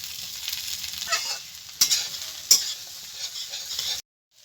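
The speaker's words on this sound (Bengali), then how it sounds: "এখন আমি এই ভেজে রাখা আলু আর এঁচোড়টা দিয়ে দেবো, তার সঙ্গে ভালো করে কষে নেব।" Fried potato and raw jackfruit sizzle in spice paste, stirred with soft scraping and two sharp utensil knocks against the pan, close and fairly quiet, before the sound cuts off.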